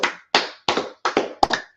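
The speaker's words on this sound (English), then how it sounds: "Clap it up for class, man." Sharp, close handclaps from a class gathering come in a sparse, uneven run of about eight distinct claps, each ringing briefly in a quiet room with no talk.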